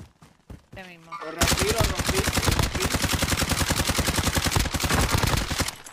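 Dense, sustained automatic gunfire in Call of Duty Warzone during a squads match, loud rapid bursts running several seconds after brief quieter sounds at the start.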